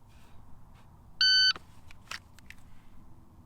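During dry fire practice, a shot timer sounds a single short, piercing beep, then soft scattered clicks and rustles follow against low background noise.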